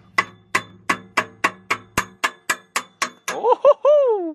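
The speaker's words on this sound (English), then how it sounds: "And I'm gonna hit this bitch with a mallet." A mallet strikes a wrench on an exhaust bolt of a 2018 Subaru Impreza, about ten sharp, ringing metallic blows in a steady rhythm, close and loud, followed by a short vocal exclamation.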